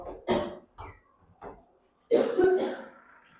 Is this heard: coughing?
yes